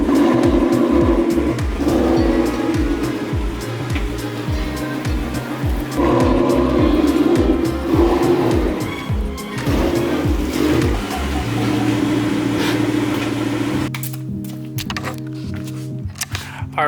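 A Dodge Challenger's engine runs loud and steady in a garage as the car is moved, with revs rising and falling and clunks along the way. It drops out near the end and leaves quieter sounds.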